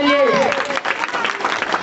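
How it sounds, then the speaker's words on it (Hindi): Audience applause at a school Republic Day drama, clapping from the crowd heard amid a loud voice and echoing hall sound, uneven and partly masked. "जोरदार ताली हमारे नेताजी के लिए"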